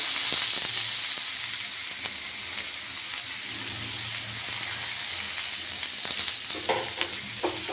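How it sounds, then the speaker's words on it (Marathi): Mixed vegetables with onion, garlic and masala sauté in oil for a dry bhogi bhaji, a soft steady sizzle and hiss with occasional stirring scrapes and light clinks, close by and with no voices. "तेलात परतून घ्यायचं सगळं."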